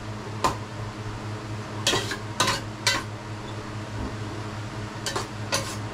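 Food frying in a pan in a home kitchen: a low, steady sizzle runs throughout, broken by scattered sharp clinks and scrapes of a utensil against the pan.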